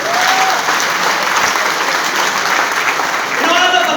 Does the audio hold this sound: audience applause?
yes